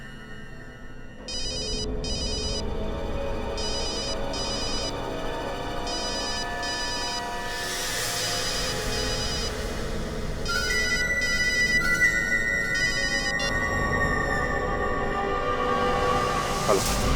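A telephone rings with a repeating electronic ringtone pattern, loud and close, continuing steadily in a dramatic crime-show scene with music and tones layered underneath.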